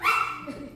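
A single short, sharp dog bark rings out during a stand-up comedy set at an open mic, then quickly fades.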